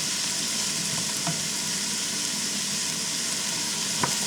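Shrimp and chopped vegetables for a low carb Nicaraguan-style chop suey stir-fry in a pan with a steady, close hiss, broken by a few faint utensil scrapes and taps.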